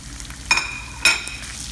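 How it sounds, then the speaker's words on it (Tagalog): Tomatoes and onion leaves sizzling in a pan with cooked tuna for a Filipino eggplant omelette dish, a steady close fry with two sharp bursts of crackle as ingredients hit the oil and get stirred. "Ilagay ko na tong kamatis at saka yung onion na dahon."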